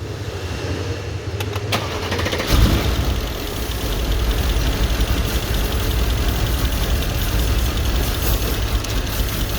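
A 2012 Mercedes CLS 63 engine with 137k km is cranked and catches at about two and a half seconds, then settles into a steady, loud, close idle.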